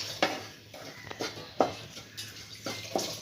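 A spoon scrapes and taps against a pan while roasted coconut and spice powder get stirred, with soft repeated strokes at a steady, unhurried rhythm, close and fairly quiet.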